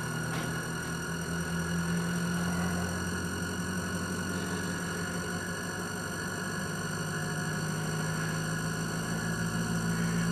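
A VMG624 electric motor runs steadily for the whole stretch, giving a constant humming drone with a fixed tone and no break, alone without any talk.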